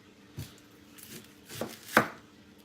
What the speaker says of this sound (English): I'm going to cut up 1 onion and put in there.